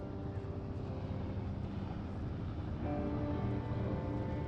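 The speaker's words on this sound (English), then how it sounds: "There's the helicopter." A helicopter in the video game Firewatch drones steadily at a distance, a low, constant rotor rumble that swells slightly toward the end.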